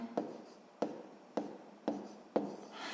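Pen writing numbers by hand on paper, five evenly spaced scratchy strokes, close and quiet.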